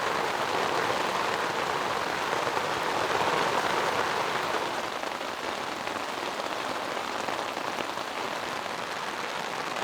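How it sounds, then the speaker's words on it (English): Heavy rain pours steadily during a solo canoe trip, a dense unbroken hiss of drops drumming on surfaces, close and constant with no voices. "I think that counts for heavy rain now."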